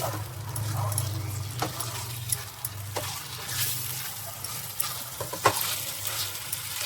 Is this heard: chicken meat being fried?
yes